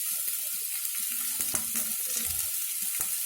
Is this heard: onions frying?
yes